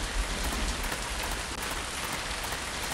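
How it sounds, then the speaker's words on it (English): Rain in the video game Vermination, a dense, steady downpour hissing evenly across the whole stretch with no clear thunder and no voices. "So here we go with the thunder and the rain again."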